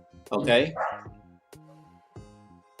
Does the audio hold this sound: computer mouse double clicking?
no